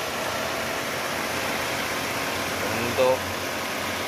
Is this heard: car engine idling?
yes